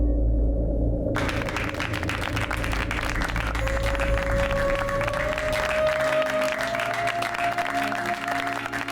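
An audience applauding after a song performance, a dense wash of many hands clapping steadily for several seconds, with a faint sustained tone running underneath.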